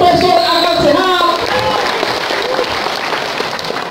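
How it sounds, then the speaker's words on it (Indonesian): An audience in Banten claps for Professor Rocky Gerung, loud applause that starts mixed with voices and music-like tones, then continues as steady clapping. "Tepuk tangan sekali lagi buat Profesor Akal Sehat."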